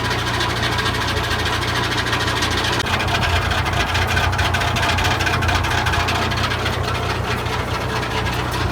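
An old circle sawmill engine runs loud and steady throughout, a deep low-pitched drone with a continuous rough, slightly knocking rumble and no voices.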